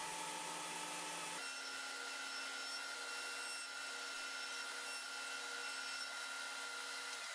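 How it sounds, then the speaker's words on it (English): A table saw or router steadily cuts thin dados into wood pieces for a backlit honeycomb charcuterie board, a continuous loud whine with a steady drone that shifts slightly after the first second and runs without pause. "next I'll cut thin dados towards the bottom of each piece"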